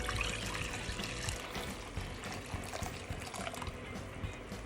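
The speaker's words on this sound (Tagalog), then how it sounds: "And then, tapos alisin natin yung tubig." Water runs and splashes steadily as it is drained from a pot of cooking mini sago tapioca pearls, a continuous trickling gush with a faint metallic clatter underneath.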